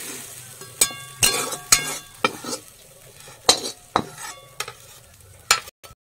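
Fried water spinach is scooped out of a pan with a metal utensil, giving a string of sharp scraping clinks and taps against the pan over a faint sizzle, spaced irregularly, with no talking.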